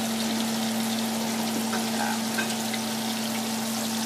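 Chicken frying in a home kitchen pan, a continuous even sizzle and crackle of hot oil holding steady throughout, close and fairly quiet, with no talking.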